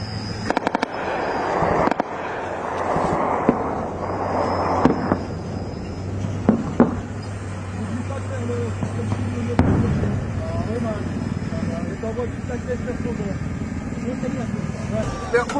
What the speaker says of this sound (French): Il y a des tirs devant nous.